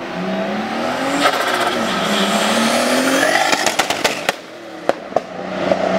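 A turbocharged BMW E46 engine revs and whines as the car slides sideways, followed by a series of sharp loud pops and bangs from the exhaust, close by.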